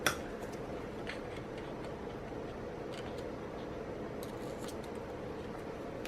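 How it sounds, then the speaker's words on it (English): A few quiet, crisp snips of scissors cutting washi tape sound close by over a faint background hum, with nobody speaking. "Scissors."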